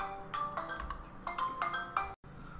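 A phone ringtone plays loudly indoors during a game recording session: a repeating bright electronic melody in short bursts, cutting off abruptly near the end.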